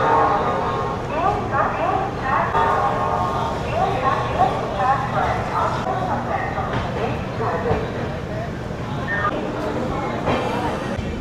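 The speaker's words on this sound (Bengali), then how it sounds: "9:55 ট্রেন ছেড়ে দিল।" The Netaji Express, an LHB-coach train, pulls out of Howrah station with a low rolling rumble and rhythmic clatter of wheels, overlaid by busy platform chatter and nearby voices throughout.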